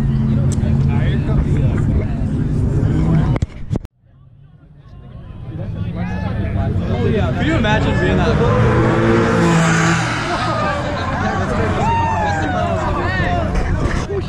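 A car with a stock exhaust drives past at a Dallas–Fort Worth cars and coffee meet, its engine note rising and swelling near the mic over steady crowd chatter, then holding a loud drone as it goes by.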